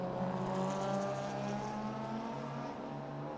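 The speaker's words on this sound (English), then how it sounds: "Now running that ex-Doug Clark Celica with a Holden engine." A Toyota Celica race car fitted with a Holden 202 engine with a Falcon alloy head drones loudly and steadily, its engine note holding strong harmonics throughout with slight surges, heard alone without talk.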